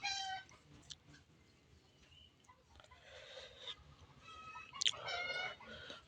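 Japanese quail at a crowded bird market in Bangladesh give faint, scattered chirps and calls, some sharper cries standing out against a low background murmur.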